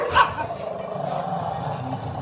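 Dogs, one of them named Maggie, growl and snarl at each other during a meal, a short close rumbling exchange with a sharp yip at the start.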